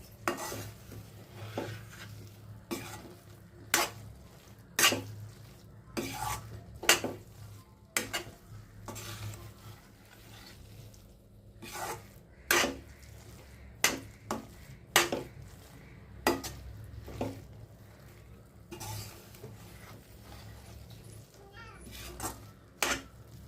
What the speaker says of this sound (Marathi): डाळीमध्ये गूळ घालून घेतला आहे आणि आता ते सतत ढवळत राहायचं